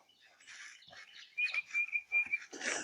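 Outdoor nature ambience in Georgia with bird calls: a thin sustained whistle-like tone around the middle, mixed with scattered chirps and croaking calls, some near and fairly loud, ending in a burst of broadband rustle.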